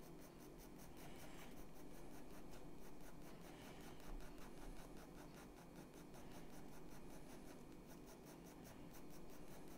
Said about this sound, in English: I'm starting to get some graphite down into the deeper recesses of the tooth of this paper.